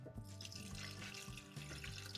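Water that was swished around a skillet, carrying leftover birria cooking juices, is poured into a blender in a small RV kitchen: a steady, close splashing stream running continuously with no talk.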